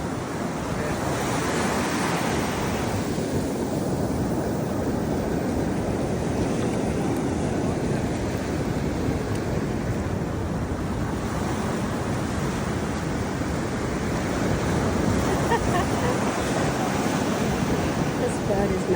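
Ocean surf washes up a beach where seagulls dart along the waterline, a continuous rolling roar of breaking waves with gentle swells in intensity and some wind rumble against the microphone.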